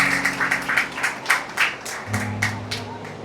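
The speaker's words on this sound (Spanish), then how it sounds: "Denle un aplauso al Señor en esta hora." Church congregation applauding during a worship service, a steady run of rhythmic clapping with a low hum of voices and music underneath.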